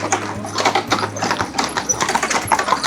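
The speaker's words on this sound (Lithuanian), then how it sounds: "Čia tai tie nuolat arkliukai visi eina ir eina." Horses' hooves clip-clop steadily along a mountain trail in the High Tatras on the way to Morskie Oko lake, a brisk, fairly close rhythm of hoof strikes over outdoor background noise.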